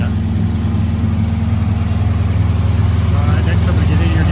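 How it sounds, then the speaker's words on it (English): A 1984 VW Puma GTI 1600 Brazilian sports car, just out of storage, idles a little high and slightly out of tune, a loud, steady close-up drone with even low pulsing throughout. "The Puma's running. Sounds like needs a little tuning"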